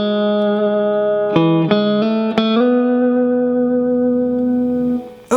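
A guitar picks the main riff of a song, playing a few quick sustained notes that then ring out into a long held chord, with reverb and no voices.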